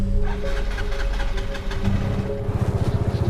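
A motorcycle engine sputters and knocks unevenly, struggling to run, with a rough low throbbing that turns into faster pulsing near the end.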